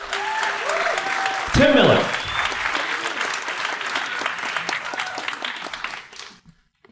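Loud audience applause fills the Howard Theatre at a live political debate event, a dense burst of clapping that swells and then fades out, with someone speaking briefly over it.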